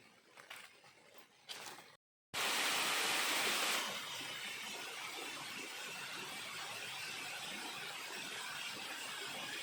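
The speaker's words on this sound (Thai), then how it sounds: "เราได้มาเจอกับน้ำตกนะครับนี่นะ ค่อนข้างจะสวยเลยนะครับ" A waterfall in a forest roars with a steady, dense rush of water, loud and close after a brief quieter moment and a short gap, continuing unbroken to the end.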